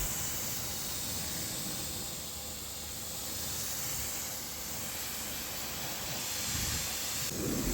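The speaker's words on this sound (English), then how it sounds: "Step 2 is rinse, starting from the top and working your way down." A steady, hissing water spray rinses a Porsche 911 Carrera from the top down during a detailing wash, a continuous close-up spray alone with no voices.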